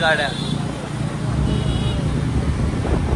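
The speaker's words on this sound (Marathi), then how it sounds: "गाड्या बघा गावाला जायला केवढ्या गाड्या आहेत" Heavy rumble of many vehicles moving along a road toward a village, a continuous roadside traffic drone, close and fairly loud, with wind buffeting and voices chattering over it.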